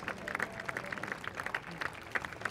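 An audience applauds photographers nominated for the Prix Découverte at the Rencontres de la photographie in Arles, with rapid, moderately loud clapping throughout and a voice speaking over it.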